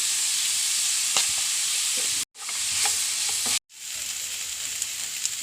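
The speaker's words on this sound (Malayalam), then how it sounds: "ഇതിൽ കുറച്ച് ചുവന്നുള്ളി അരിഞ്ഞത്, വെളുത്തുള്ളി, ഇഞ്ചി ഒന്ന് വാടി വരയ്ക്കാം" Chopped shallots, garlic and ginger sizzle and fry in a pan, a steady bright crackle with occasional stirring scrapes and two brief cuts to silence.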